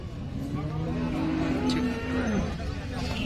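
A single long, low moo from a nearby cow at a cattle market rises and then falls away, heard over a steady background rumble.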